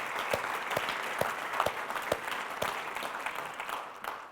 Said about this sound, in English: give a round of applause for our city staff